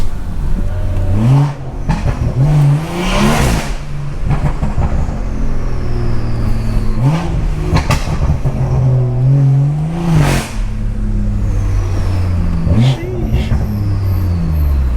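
A BMW 340i engine with a B58 motor revs hard through repeated gear pulls, the pitch climbing and dropping several times, loud and close, with some talk mixed in.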